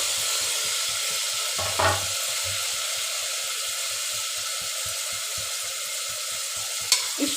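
Onion, tomato, green chilli, coriander and mint frying in a pan, a constant bright sizzle with regular rhythmic stirring pulses and a couple of louder scrapes, close and continuous.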